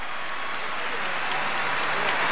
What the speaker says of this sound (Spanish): lo recibimos con un aplauso